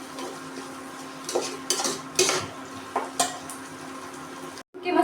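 Onions roasting in a pan for an akkha masoor curry are stirred with a utensil, giving several distinct scraping strokes over a steady low sizzle, with a brief silent gap near the end.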